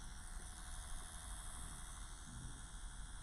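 An Axys Valhalla rotary tattoo pen machine runs with a quiet, steady electric hum and light vibration, even and continuous throughout, with no talking.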